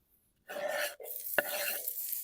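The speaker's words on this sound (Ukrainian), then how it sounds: "Вона вже пішла шкварчать у нас." Chopped onion drops into hot oil in a pan over an open-fire grill oven outdoors, bursting into a loud, steady sizzle with a brief clink of the pan partway through.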